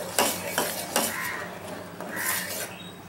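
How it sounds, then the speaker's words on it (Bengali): A spoon scrapes steadily around a pan of thickening milk being cooked down on a gas stove for homemade vanilla ice cream, making repeated soft scraping strokes at a quick, uneven rhythm, close and fairly quiet. "এইভাবে একভাবে নেড়ে যেতে হবে, নাড়া বন্ধ করলে চলবে না"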